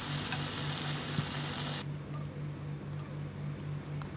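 Chicken chap fries in hot oil in a kadai, a loud continuous sizzling hiss up close that suddenly softens partway through and continues as a quieter steady crackle, with a faint hum underneath.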